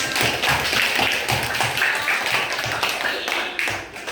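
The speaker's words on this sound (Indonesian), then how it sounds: "terima kasih, tepuk tangan dong buat kita semua." A classroom of students at an Indonesian primary school clap their hands in a dense, continuous burst, loud and close, with a faint murmur of young voices mixed into the clapping.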